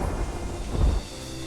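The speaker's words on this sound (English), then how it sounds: "Here's thunder and lightning." A low rumble of thunder swells and fades over a steady wash of rain, with no voices.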